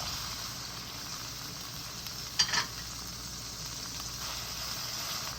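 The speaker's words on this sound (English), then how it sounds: "Next, I'm going to add my grape tomatoes." Grape tomatoes and tomato paste fry in a pan with a steady, soft sizzle, broken by a brief louder stir or spatter partway through.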